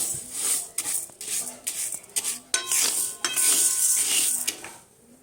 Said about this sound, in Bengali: একটু ডালটা ভেজে নিচ্ছি এভাবে